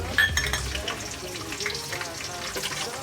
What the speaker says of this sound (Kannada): ಇವಾಗ ಗೋಡಂಬಿ ಮತ್ತು ದ್ರಾಕ್ಷಿ ಹಾಕ್ಕೊತಾ ಇದ್ದೀನಿ